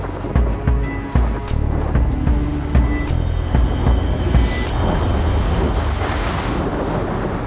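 Ocean waves near Ilhabela slam against a small boat, with rhythmic thumping hits early on and then a rushing, wind-buffeted wash of water, loud and close.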